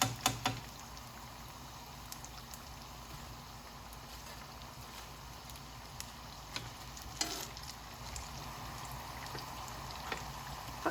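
Songpyeon rice cakes deep-fry in hot oil with a faint, steady sizzle and bubbling, broken by a few soft clicks and stirring knocks.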